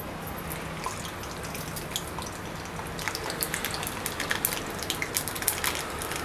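Mustard seeds sputter and crackle in hot oil for a Maharashtrian pithla tempering, a steady fine sizzle with small irregular pops that grow denser and sharper toward the end, close and moderately loud with no talking.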